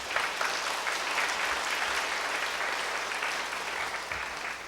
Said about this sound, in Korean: 그분 박수 한번 쳐주세요.